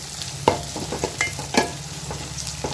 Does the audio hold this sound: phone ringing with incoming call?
no